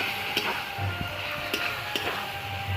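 Chicken pieces sizzle in a hot pan with salt and chopped tomato, a steady close frying hiss broken by a few sharp ticks and clinks, with no one speaking.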